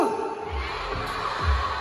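A live concert crowd at a show shouts and cheers loudly together, a dense, sustained roar of many voices that swells in bursts.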